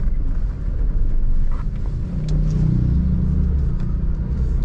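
A 2006 Suzuki Jimny 1.3 driving through city streets, a steady low engine rumble and road noise from inside the cabin, fairly loud and continuous.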